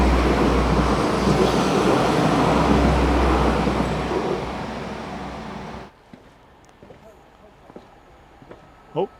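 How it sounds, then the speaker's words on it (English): A train snaking back onto the main line gives a loud, steady rumble of wheels and carriages that fades out abruptly partway through, leaving a quiet stretch with faint scattered sounds. "it's the returning train that we saw earlier, snaking back out onto the main line"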